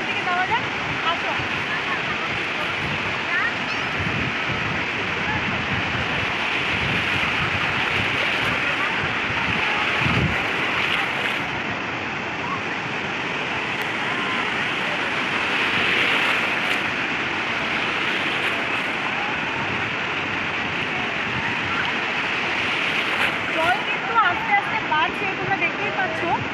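Ocean surf at Bakkhali sea beach rushes in a continuous, steady wash mixed with wind noise, with people's voices in the background.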